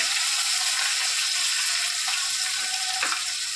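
Green chillies and curry leaves frying in hot oil in a pan, making a steady, loud, close hiss and crackle that runs without a break, with no talk.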